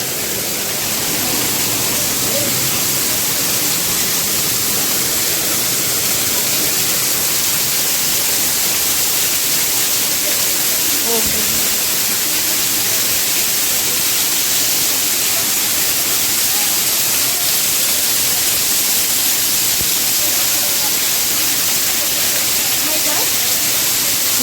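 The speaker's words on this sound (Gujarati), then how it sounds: "જે મૂર્તિની ઉપરથી આખા ઝરણા વહે છે" A waterfall pours inside the cave at Hathani Mata temple, a loud, steady broadband rush of falling water filling the whole stretch, with voices faintly beneath it.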